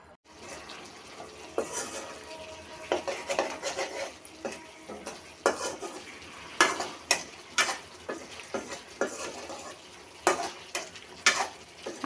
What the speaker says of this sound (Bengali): আলু প্রথমে কতক্ষণ তেলে দিয়ে খালি খালি ভেজে নিয়ে এখন সব মশলা দিয়ে কষিয়ে নিচ্ছি।